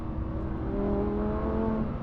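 Lamborghini Huracan STO V10 engine pulling steadily in 4th gear at around 4,500 to 5,000 RPM, a loud, continuous, droning tone heard from inside the cabin, with no talking.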